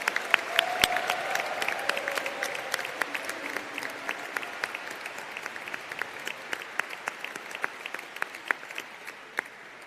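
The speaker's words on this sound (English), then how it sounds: "Let's have another round of applause for our professional studies recipients." An audience at a music school commencement ceremony applauds in a hall, dense continuous clapping that fades gradually toward the end, with a brief shout or murmur early on.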